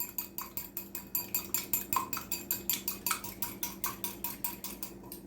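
An egg being beaten in a mug with a utensil for a chocolate keto mug cake, a steady run of rapid, even clinking strokes heard up close.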